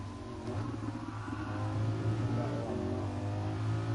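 Lamborghini Huracan engine in the racing game GT Sport, a steady, flat-toned drone that rises slightly as the car accelerates, continuous and up front.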